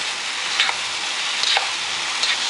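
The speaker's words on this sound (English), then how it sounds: "Stir. Now make sure you stir evenly." Mee goreng noodles with fresh tomato mix are stir-fried over high heat, a loud steady sizzle broken by brief scraping stir strokes, close and without any voices.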